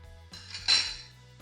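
A spoon adds instant yeast into a glass jar for homemade rice wine, one soft scrape followed by a single bright clink of metal on glass, close and brief, with no talk.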